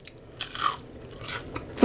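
Crisp bite into crunchy fried cheese, a couple of brittle crunches close up with chewing between them, with no talking over it.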